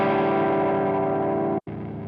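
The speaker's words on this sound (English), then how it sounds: "Up next on our list is the DF2 Super Feedbacker and Distortion." A Boss DF-2 Super Feedbacker and Distortion effect plays a thick, sustained distorted guitar tone that drones without a break. It cuts out briefly near the end and then resumes.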